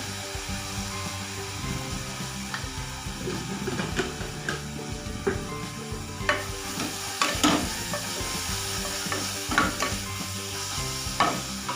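Ginger garlic paste and turmeric frying in a pan for a hotel-style veg kurma, a steady sizzle with scraping stirs throughout, close and fairly loud, no voices.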